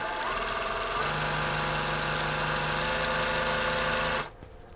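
A sewing machine stitches jelly roll quilt pieces in a steady, fast mechanical whir with a rhythmic hum, running continuously at close range before stopping abruptly near the end.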